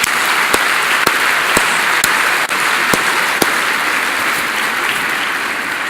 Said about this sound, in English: Let's give one more round of applause to Joe Donaldson